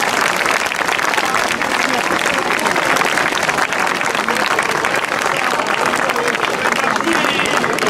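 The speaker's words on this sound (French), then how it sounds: "on applaudit bien fort Jonathan Le Yenec." An audience applauds a winner at a Breton four-dance competition final in Gourin, a dense, loud, sustained burst of clapping from a large crowd, with voices mixed into the clapping.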